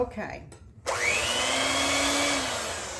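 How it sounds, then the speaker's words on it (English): A kitchen blender whirs to life after a brief spoken word, mixing pink dip with brown sugar in a loud, steady, high-pitched motor whine that runs on close by. "And then I'm going to start the blender again."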